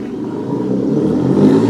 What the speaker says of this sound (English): the sound of a beastly engine cuts through the courtyard